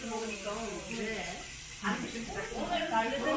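Bean sprouts and beef brisket sizzle on a restaurant grill, a steady hissing crackle that runs under close conversation throughout.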